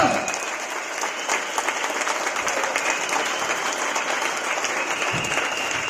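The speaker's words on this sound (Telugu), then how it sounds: "గట్టి క్లాప్స్ కొట్టచ్చు." A crowd applauds loudly and steadily throughout, dense clapping with no pause.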